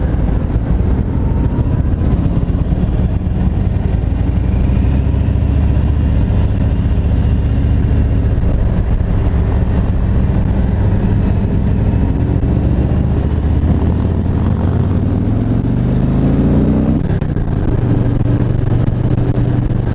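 A 2018 Harley-Davidson Road Glide big V-twin engine running steadily for a long stretch, a loud low rumble with a rising tone near the end as revs build, with wind noise.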